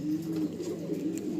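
Pigeons in a loft coo steadily in low, droning tones, several birds overlapping in a continuous close murmur with no talking.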